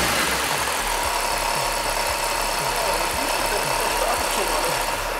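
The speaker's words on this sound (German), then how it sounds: "So, ich starte den nochmal." A supercharged BMW engine runs at a steady idle with a low, even rumble and faint rhythmic knocking, close by, with no clear start.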